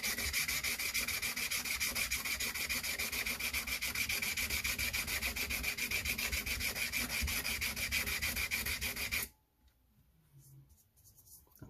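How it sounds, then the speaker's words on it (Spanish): Fast, continuous scratchy strokes of sandpaper flattening an acrylic base for a pool cue tip, loud and close, running for about nine seconds before cutting off to near quiet. "Le voy a dar un poco más de lija."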